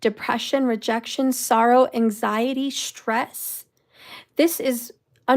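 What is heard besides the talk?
No everyday noise stands out behind the speech.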